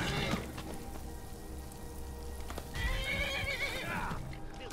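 A wild horse in the video game Skyrim neighs and whinnies while its hooves clip-clop. The sound is moderately close over a steady patter that resembles rain, with no voices.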